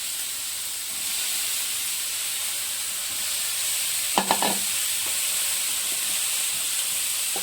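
Washed eggplants frying in a pan for a spiced brinjal curry, giving a steady close sizzle and hiss, with a short burst of clattering stirring midway.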